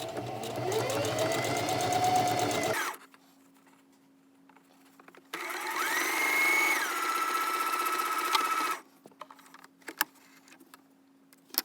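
A home sewing machine stitches a homemade face mask in two steady, rapid whirring runs of a few seconds each, separated by a pause, with faint clicks and handling sounds after, close and clear with no talk.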